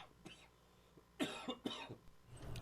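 A couple of rough, fairly quiet coughs, close by, with some throat sounds and faint breathy vocal noise between them.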